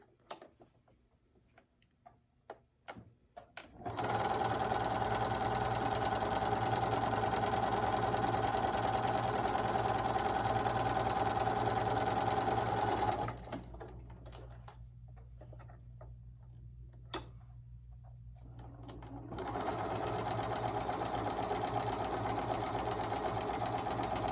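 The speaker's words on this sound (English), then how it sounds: "I'll take it to the sewing machine, and I'm going to sew 1/4 inch on each side of that line" A sewing machine stitches quarter-inch seams on either side of a drawn line on a quilt block. It runs steadily and loud for about nine seconds, then drops to a quieter hum with a short pause, and then runs fast again.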